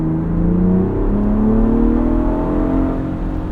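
A 2022 Ford Bronco Raptor's engine revs as it accelerates from inside the cabin, a steady, throaty drone rising in pitch through a gear, loud and close with no talk.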